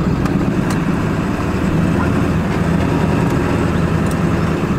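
A Dodge dually truck crawling up a steep, dry hill in rear-wheel drive, its engine holding a steady low rumble with faint ticks and crunches, close and unbroken for a few seconds.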